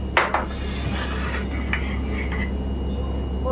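A spoon clinks against a cup while half a spoonful of MCT oil is stirred into freshly strained green tea, with a couple of sharp metallic taps early on, then a soft steady hum of background noise.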